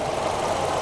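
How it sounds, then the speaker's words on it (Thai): Idling 2.5-litre engine of a 2017 Toyota Camry 2.5G, a steady, even hum with a faint rhythmic knock, heard up close and alone for under a second. "นี่คือเสียงเครื่องยนต์นะครับ"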